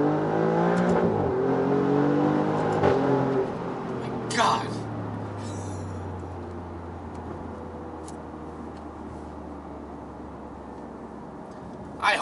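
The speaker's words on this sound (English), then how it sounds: "You guys can hear the exhaust. I mean, it sounds good." A 2018 Alfa Romeo Giulia Quadrifoglio exhaust rumbles and revs up, then settles into a fading drone, with someone talking over the opening seconds and brief clicks and knocks near the microphone.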